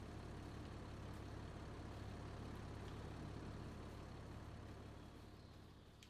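A tractor engine in the video game Farming Simulator 25 idles with a steady low diesel drone, constant and fairly quiet, easing off slightly at the end.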